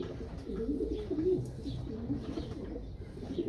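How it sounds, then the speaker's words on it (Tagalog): Racing pigeons cooing softly in a loft, low throaty burbling coos running continuously and close by over a quiet background, with no talk. "Ito, napakagandang ibon din ito."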